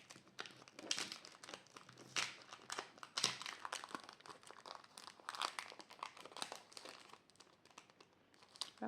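Thick vintage-style paper being handled and crinkled up close, in irregular bursts of crackling and rustling with short pauses between, no talking.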